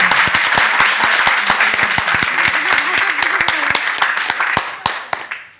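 An indoor audience at a network marketing event claps in sharp, irregular bursts that thin out over a few seconds, while a voice speaks over the applause.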